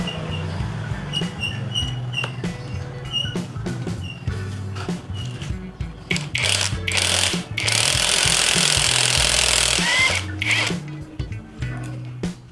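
Bolt being removed from a motorcycle front shock during an oil seal change, with loud bursts of a power tool, probably an impact wrench, rattling in several bursts, the longest near the end, over steady mechanical background noise.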